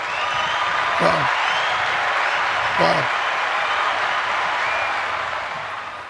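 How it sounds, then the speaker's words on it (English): Audience applause fills the whole stretch as a steady, loud wash of clapping from a crowd, with a voice breaking through briefly a couple of times over it. "Get this man a round of applause."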